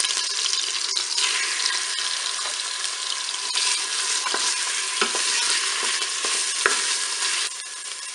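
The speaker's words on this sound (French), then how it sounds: "mon beurre est bien chaud. Je vais faire revenir mes morceaux de poisson," Cod pieces frying in hot butter in a Cookeo multicooker, a steady dense sizzle throughout with occasional pops and the scrape of stirring, close and continuous, no voices.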